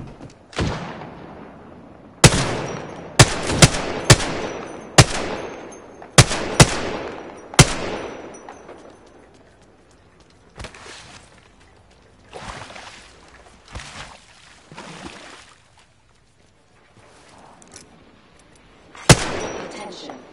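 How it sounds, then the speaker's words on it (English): Gunfire in a PS4 shooter video game: sharp, loud shots in quick clusters early on, then scattered softer bursts and a final crack, with occasional voice chat in between. "Taking fire, bros."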